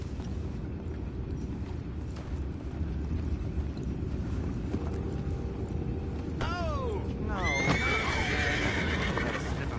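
Horses whinny in the Red Dead Redemption 2 video game, a rising neigh near the end over a steady low ambient bed, with game noise around it.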